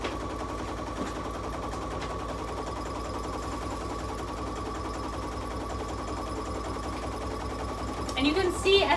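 An embroidery machine sewing a satin stitch runs steadily for the whole stretch, a fast, even buzz of needle strokes with a brief louder rattle near the end.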